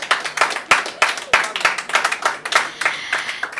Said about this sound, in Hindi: इस पे तो तालियां बजाइए